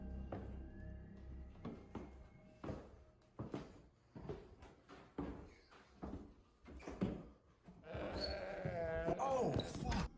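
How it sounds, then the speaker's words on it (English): Goat-like bleating inside a house, a loud wavering cry near the end following knocks and voices talking throughout. "It sounded like a fucking goat."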